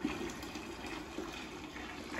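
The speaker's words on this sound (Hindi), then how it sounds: "इसी को उठा के ये जो है ना बाल्टी में डालना है, बड़ा एहतियात से डालना पड़ेगा क्योंकि उबलता हुआ पानी है।" Boiling water poured into a bucket on a cold winter day, a continuous quiet splashing pour with gurgling swells, close by and alone.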